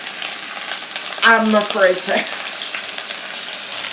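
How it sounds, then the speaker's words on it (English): Beef rouladen sear in butter in a pan with a steady, close sizzle running throughout, while a person talks over it briefly. "I'm going to let these sear."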